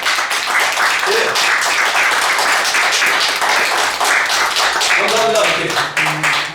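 A crowd claps steadily at a Korean traditional storytelling performance, a dense patter of many hands, with a few voices calling out near the end.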